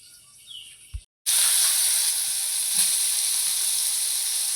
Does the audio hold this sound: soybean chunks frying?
yes